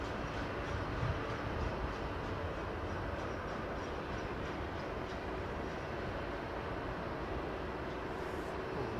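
Airliner jet engines spooling at full throttle for takeoff at London Heathrow, a steady, loud broadband roar that holds unbroken throughout with no talk.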